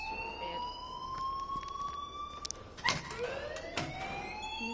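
An alarm rings in the video game Life is Strange, a quiet, sustained wailing siren-like tone with sweeping pitches over a steady background hum, with no speech.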